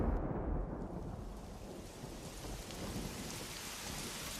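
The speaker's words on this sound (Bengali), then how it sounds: "হঠাৎ বৃষ্টি চলে এলো।" Sudden heavy rain pours down with a deep rumble of thunder, a dense continuous roar that steadies after the first second, with no voices.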